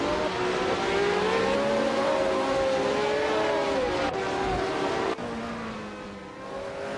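Race cars including a Hesketh 308B roar continuously as engines rev and shift pitch up and down, loud and steady, with a brief cut and a drop in level near the end.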